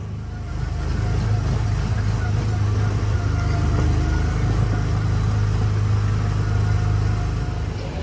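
A small car engine on the Autopia ride at Disneyland hums and rumbles steadily up close, a continuous low drone at an even, moderate level.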